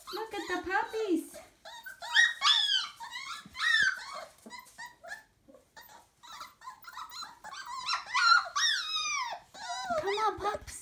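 A litter of 29-day-old Entlebucher puppies whimpers, yips and growls in close, overlapping bursts of high, wavering whines, with brief quiet gaps and a person's voice calling among them.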